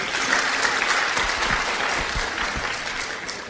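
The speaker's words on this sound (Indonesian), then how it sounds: "Kasih tepuk tangan dulu buat Pak Farid." Audience at a religious lecture breaks into applause, a full, close crowd clapping that holds steady at strong volume, with no one speaking over it.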